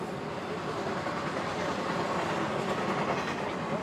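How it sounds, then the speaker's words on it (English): A train rumbles past with a continuous rolling roar and faint clatter of wheels on rails, fairly distant and steady. "Whew, that's a loud train."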